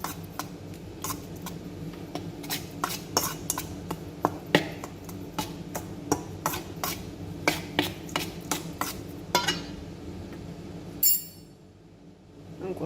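Donut batter with milk is stirred in a bowl, making a rhythmic series of sharp clinks and taps of the utensil against the bowl that stop abruptly near the end.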